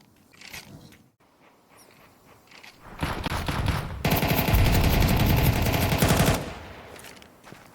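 Sustained automatic rifle fire from a Galil in a Counter-Strike 2 esports match, with scattered shots and footsteps first, then a dense, loud spray of rapid gunfire lasting several seconds before tapering off.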